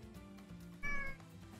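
A house cat gives a single short meow, fairly close and clear, at a low overall level with quiet room sound around it and no talking over it.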